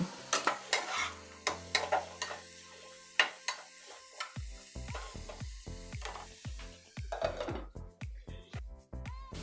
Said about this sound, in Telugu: ఇప్పుడు వీటిని బాగా వేయించుకోవాలి.